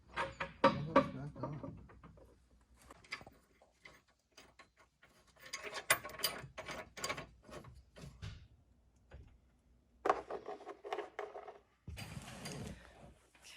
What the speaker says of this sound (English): just gotta tighten each bolt for like the final torque